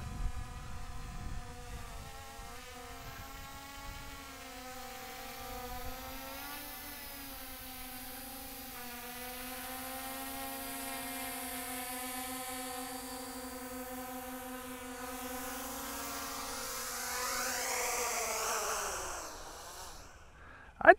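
A Bugs 5W drone descends and lands, its small propellers giving a faint, steady whine that rises in pitch and then stops with a soft thump at touchdown.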